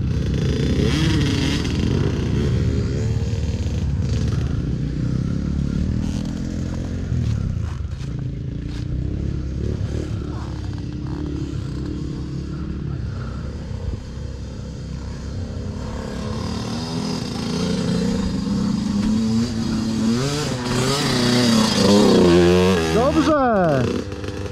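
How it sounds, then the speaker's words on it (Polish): A Husqvarna FC 250 dirt bike climbs a rocky uphill track off-road, its engine droning loudly and continuously before revving higher near the end, with people talking over it. "Da radę Kuba tu podjechać?"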